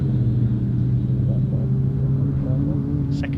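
Citroen C2 rallycross car braking into Brooklands hairpin with a slight lock-up, a steady, loud engine rumble and drone heard from trackside, with a commentator's voice faintly present.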